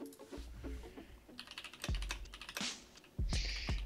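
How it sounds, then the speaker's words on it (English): Several computer keyboards are being typed on in a comic book shop, with quick irregular bursts of key clicks and clacks at close range and some louder thumps, and no talk. "I hear those keyboards going"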